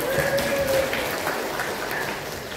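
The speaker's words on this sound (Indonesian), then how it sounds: "Tepuk tangan dulu Bapak Ibu." Room of English teachers clapping at a workshop, a dense, rain-like patter of hands that holds steady and slowly fades, with a faint tonal hum early on.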